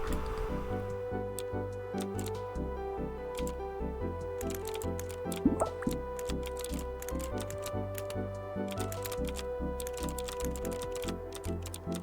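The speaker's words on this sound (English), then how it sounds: "Also the keyboard noises" Steady keyboard typing in a puzzle game, with fast, continuous key clicks over a looping musical tone, close and clear, without talk.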